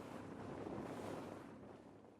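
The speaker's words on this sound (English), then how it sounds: "Tearing through the sea in a motorized boat" A Polish-made motorized boat crossing the Atlantic Ocean produces a loud, continuous rush of wind, spray and engine roar, steady and dense throughout with no talking.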